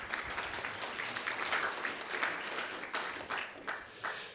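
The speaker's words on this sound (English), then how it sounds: "Round of applause." Conference audience at a Royal Society of Biology accreditation event applauding, a steady wash of many hands clapping from a moderate distance, gradually thinning toward the end.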